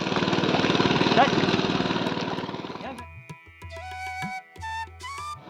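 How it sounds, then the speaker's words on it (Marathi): A tractor-like ploughing machine working a muddy paddy field in Konkan, India chugs loudly with a rough, steady drone for about three seconds, then cuts out, leaving faint tonal sounds and brief quieter noises. "म्हणजे पकडलेले ते मशीनने सुद्धा नांगरत आहेत"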